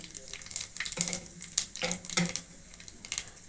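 Dry red chillies and panch phoron spices hitting hot oil make soft, uneven bursts of spluttering and crackle with quieter gaps between them, heard up close at low volume.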